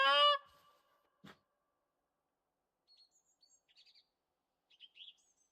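Geese calling in the Revontuli Coast map of a hunting video game, with one loud honk at the start, a sharp click, then several faint, distant chirping calls spaced apart over quiet.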